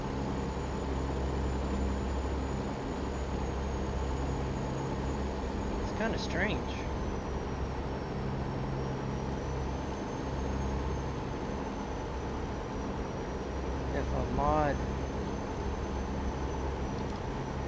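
Truck engine in American Truck Simulator, droning steadily and evenly in the background throughout while someone talks over it.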